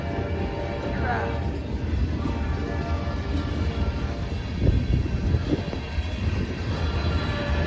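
CSX M327 freight train of 192 cars rolling past in a snowstorm, a steady low rumble and clatter of wheels with a brief higher squeal early on, heard with a person talking nearby over it.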